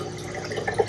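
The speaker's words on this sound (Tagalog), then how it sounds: "Papasok ngayon yung tubig dito." Water runs into a homemade overhead aquarium sump filter, a continuous splashing trickle with small bright drip accents near the end, close and alone without talk.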